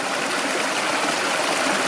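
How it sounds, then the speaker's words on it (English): Creek water flows steadily over the terraced roots of a tree into a small pool, a close, even rushing wash with no other sounds. "the creek has formed this pool by the terraced slope of the roots of the tree"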